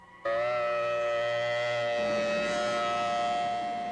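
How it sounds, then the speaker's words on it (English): A civil defense tornado warning siren in Cedar Rapids, Iowa, blares a long, steady wailing tone, loud and sustained, rising in and holding its pitch without pause. "A warning siren, and often it means a tornado has been spotted"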